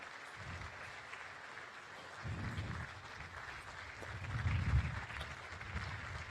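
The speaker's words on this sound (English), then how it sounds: "Let us continue clapping as they make their way to the main stage." Applause from a large audience at a new university campus inauguration in Kampala, Uganda, a steady distant patter that swells in two brief surges, with no voices over it.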